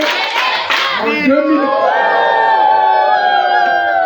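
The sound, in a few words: crowd applauding and cheering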